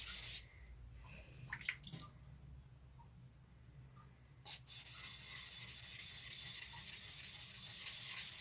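Soft steel of a Japanese-style blade near the shinogi being polished on a 400 grit stone after 180 grit work, giving faint, steady rubbing and scraping strokes that run continuously and quietly without any voices.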